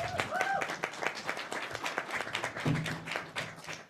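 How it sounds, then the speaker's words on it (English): A small round of applause from a science festival masterclass audience, scattered individual claps in an uneven patter, fairly close and thin, with faint voices in the background. "Round of applause for Mia."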